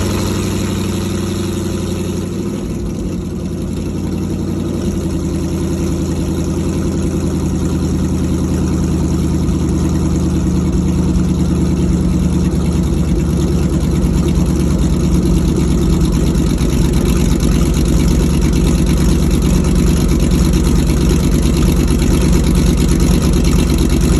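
An LS-swapped truck engine cold-starts and settles into a loud, steady, rumbling idle, close by and unbroken, with no talking over it.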